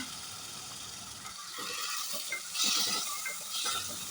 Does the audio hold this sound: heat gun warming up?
no